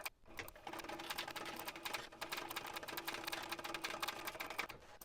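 A sewing machine stitches a basting seam on a Riptide handbag, running steadily and fairly close for about four seconds after a brief start, with no talk.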